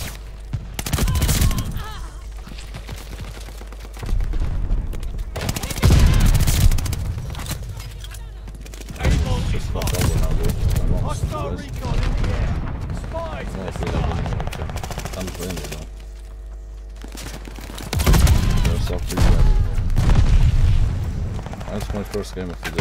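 Call of Duty Vanguard multiplayer gunfire, bursts of rapid shots and booms coming in loud clusters with brief lulls between, mixed with in-game voice callouts and a player talking over the action.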